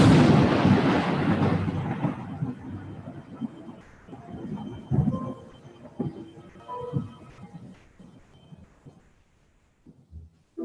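Thunder from a Halloween house projection: a loud rolling rumble opens and slowly fades, followed by several smaller booms and crackles that trail off into near silence.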